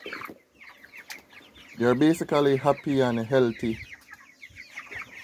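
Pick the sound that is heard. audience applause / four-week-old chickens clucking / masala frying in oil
four-week-old chickens clucking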